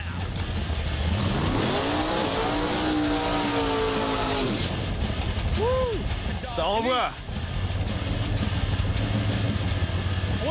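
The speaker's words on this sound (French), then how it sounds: "Voyons ce que ça donne au moment du burn." Drag race car on nitrous doing a burnout, its engine revving in a long rising howl before cutting off, followed by a few short revs and a low idle, with someone talking over it.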